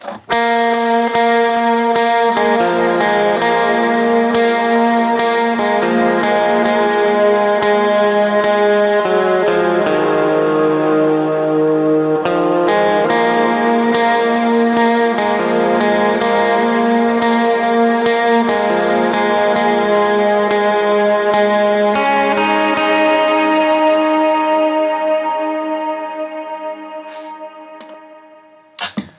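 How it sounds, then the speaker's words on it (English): Sustained electric guitar chords drenched in big reverb with wavering vibrato from a Mobius pedal, playing continuously and loud before fading out at the end. "I switch to a bigger reverb, and then I switch to a destroyer setting for some vibrato on the Mobius."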